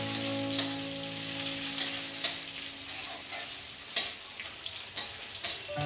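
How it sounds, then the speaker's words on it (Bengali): Chopped onion fries in oil in a pan for a rohu fish roe kofta curry, a close steady sizzle with sharp spatula scrapes and stirring clacks at irregular intervals, no talking. "এবার আমি দিয়ে নেব ওই 1 চা চামচের মতো পেঁয়াজ কুচি। পেঁয়াজটা আমি একটু ভালো করে ভেজে নেব।"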